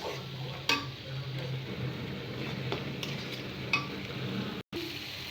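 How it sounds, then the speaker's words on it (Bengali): Coriander and turmeric masala being fried for a beef curry, a low steady sizzle with occasional light scrapes and taps of a spoon in the pan, fairly quiet and close, with a brief dropout near the end and no talk. "মশলাটাকে আমি এখন ভালো মতো কষাবো।"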